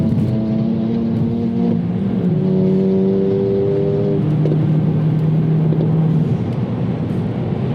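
A Mk5 Golf GTI accelerates hard in fourth gear, its loud engine note climbing steadily in pitch as the revs rise, then leveling off into a sustained roar, with no talking.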